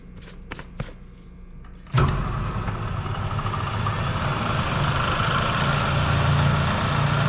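A wood lathe turning a two-color epoxy Christmas ornament at about 1400 RPM: a few soft clicks, then the motor starts abruptly into a loud, steady whirring roar that keeps building slightly.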